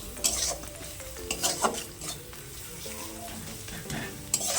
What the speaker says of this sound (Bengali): এর মধ্যে আমি সবজিগুলো দিয়ে ভালো করে কষবো